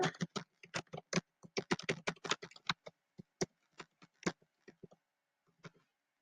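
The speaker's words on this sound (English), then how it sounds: "Make sure I type a little bit slower." Computer keyboard typing at a close, quiet level, quick clusters of key taps that thin into slower, scattered presses, alone without talk.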